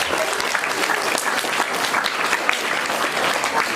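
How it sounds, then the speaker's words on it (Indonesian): An audience at an Islamic religious lecture claps in steady, dense applause that stays loud and even throughout, with no pause and no one speaking over it. "Tepuk tangan dong"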